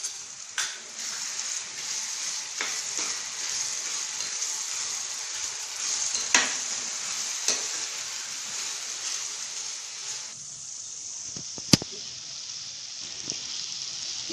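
Onions and crushed peeled garlic frying in a pan for a yellow mango rice, a soft continuous sizzle with a few faint clinks and taps.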